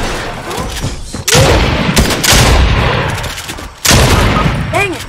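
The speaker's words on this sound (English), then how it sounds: "where is he shooting you from?" Loud, dense gunfire and explosive bursts from a Fortnite match fill the whole stretch, with sharp breaks where new volleys start and voices talking faintly underneath.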